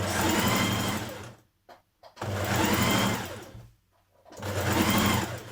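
A sewing machine stitches blouse side seams in three loud, steady bursts of rapid mechanical whirring, separated by short pauses, close and alone without talk.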